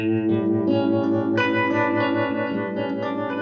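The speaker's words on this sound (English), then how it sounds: "Let's hear this vibrato again, or the tremolo." A sustained electric guitar chord through an amplifier's tremolo effect wavers with a steady, pulsing modulation, rich and effect-laden with a slight swirl, played on its own without talk.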